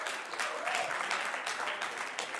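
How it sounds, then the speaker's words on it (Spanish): A church congregation applauds during a sermon, a steady, moderately distant wash of clapping with faint voices mixed in. "Denle un aplauso fuerte si eso usted lo cree."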